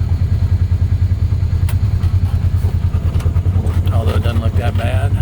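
A vehicle engine idling and pulling in 4-wheel drive while heading a little uphill on an off-road track, giving a steady, throbbing low rumble throughout with some light clatter near the end.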